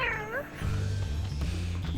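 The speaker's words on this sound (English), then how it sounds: "My cat is looking at me." A cat gives one brief, rising meow at the start, quickly covered by a low, droning musical backdrop that continues alone.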